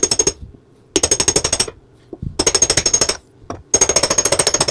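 Hammering a big socket to drive an overdrive seal into place on a Triumph TR4 A-type overdrive: four loud bursts of rapid, rhythmic metallic blows separated by short pauses, close and sharp like a pneumatic hammer.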